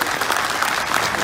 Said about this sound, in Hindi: तालियों की गड़गड़ाहट से उनका उत्साहवर्धन करिए